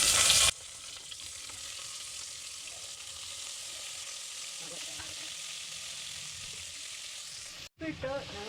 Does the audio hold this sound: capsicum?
yes